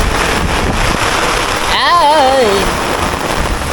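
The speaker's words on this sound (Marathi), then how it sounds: "चारी बाजून पाऊस आला मंडळी" Steady heavy rain hisses throughout, with a person's voice rising briefly over the downpour.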